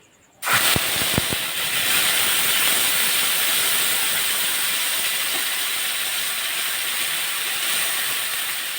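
Ginger garlic onion paste hits hot oil with a sudden loud hiss after a brief quiet moment, a few sharp pops at the start, then a strong sustained sizzle.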